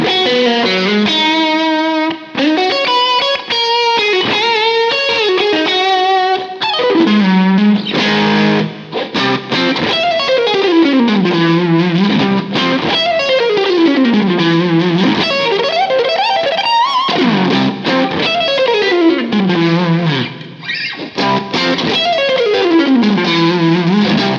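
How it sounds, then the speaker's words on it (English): Bright, jangly electric guitar, a Modern Eagle V, playing chords and sliding runs, loud and continuous with a chorused, effected shimmer and no voices. "Sounds quite jangly, not as thick as like a Les Paul"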